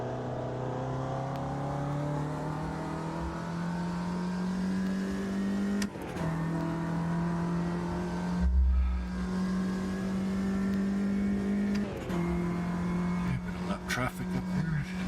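Race car engine from the video game One World Racing drones steadily near and loud, with gear-shift dips and revving pitch changes repeating every few seconds, under someone talking over it.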